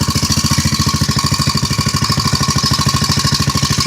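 An antique David Bradley cultivator engine with a modern muffler runs close by after sitting idle for years, a loud, rapid, even chugging pulse with a rough buzzy edge throughout.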